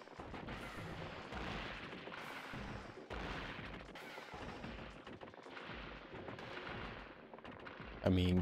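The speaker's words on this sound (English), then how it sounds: "can I destroy anything with these missiles?" Missiles firing in the side-scrolling game Gato Roboto, a dense run of repeated explosive blasts and booms that continues through the whole stretch, ending with a louder hit.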